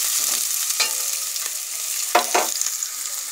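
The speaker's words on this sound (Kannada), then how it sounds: "ಬೀನ್ಸ್ ಹಾಕ್ತಿದ್ದೀನಿ ಎಣ್ಣೆಲಿ ಬೇಯಲಿ ಚೆನ್ನಾಗಿ" Green beans hit hot oil with curry leaves in a pan for vegetable fried rice. Oil sizzles steadily while a few sharp stirring scrapes break through up close.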